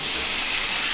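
Onion and ginger sizzle in hot white oil in a pan, a steady, loud, close hiss that runs unbroken through the moment.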